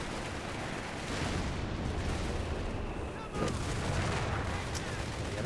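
A 155 mm rapid artillery barrage in a video game thunders as a dense, continuous rumble of heavy blasts with a sharp crack partway through. Faint voices sit under the noise.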